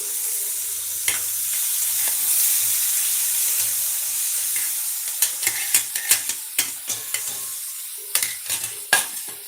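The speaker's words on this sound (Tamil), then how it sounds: "நல்லா வதங்கிடுச்சு அது பழத்தையும் போட்டுடலாம்" Ingredients for a white chickpea kurma sauté in a pan with a steady frying sizzle, broken by a run of quick scraping stirs in the second half. There is no talking.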